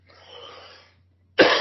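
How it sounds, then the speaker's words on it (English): A dry, rough throat clearing rasps softly at first, then after a brief silence one sharp, loud cough bursts out close by. "it just seems like I'm constantly clearing my throat."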